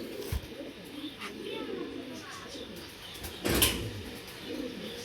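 Racing pigeons at a pigeon club coo in low, soft, throaty bursts, with occasional flutters and chirps, while someone talks nearby.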